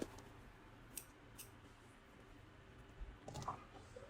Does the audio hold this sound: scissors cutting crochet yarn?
yes